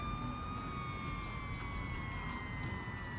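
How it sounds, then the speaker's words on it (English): A steady electronic siren from a fire engine in the video game Firefighting Simulator: Ignite wails continuously over a dense rumbling background, holding a sustained tone throughout. "Lights and sirens."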